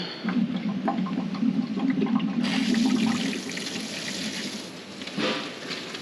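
Water gushes steadily from a faucet in a vintage camper van RV, a continuous splashing rush that gets brighter and stronger partway through, close and loud with no talking.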